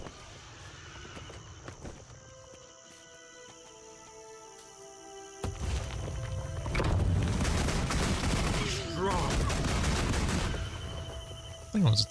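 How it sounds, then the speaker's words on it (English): Gunfire in Guild Wars 2 bursts in rapid volleys after a quieter stretch of game ambience, loud and dense clusters of shots mixed with other combat effects and footsteps. "Knowing that, no matter the magic, enemies can still die to a simple gunshot wound."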